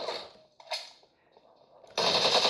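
Gunfire from the PUBG Mobile game played on an Android phone, a few faint shots followed by a sudden loud burst of rapid fire at the end.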